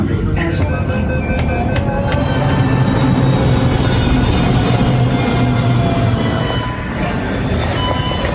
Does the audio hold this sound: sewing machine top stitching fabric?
no